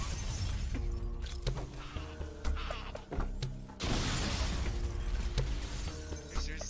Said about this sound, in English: It's bugging out the glass noise.